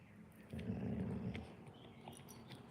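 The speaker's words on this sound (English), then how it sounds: "Did you just growl for the first time in your life?" A small dog growls steadily and close by in a quiet room, one sustained low rumble that swells after half a second and then trails off into softer growling.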